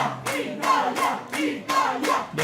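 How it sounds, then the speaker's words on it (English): Italian tifosi chanting for their team at a touch championship match, a loud crowd voicing a repeated rhythmic chant in even pulses with handclaps, sustained and near. "The tifosi getting behind their team"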